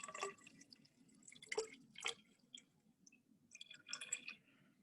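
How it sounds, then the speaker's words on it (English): Water is poured and dripped into a 100 ml graduated cylinder during a lab demo, giving faint, close trickles and a few drips in short bursts with quiet gaps between them. "Then add 40 milliliters of water to a 100 milliliter graduated cylinder."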